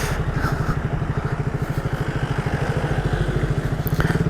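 A motorcycle engine runs during a ride, with a fast, even train of low thumping exhaust pulses that hold steady and loud throughout.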